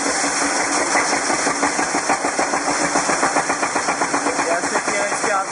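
A 7.5 kW three-phase generator engine running on biogas and diesel on a farm biogas plant drones loudly and steadily, with a rapid even pulsing thump close by throughout.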